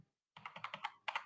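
Quick bursts of keystrokes on a computer keyboard as an email address is typed, a short silence followed by a rapid run of close, crisp clicks in an uneven rhythm with no voices.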